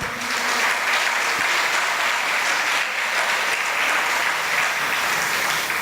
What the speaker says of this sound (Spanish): Si vale el aplauso al Señor, dáselo fuerte.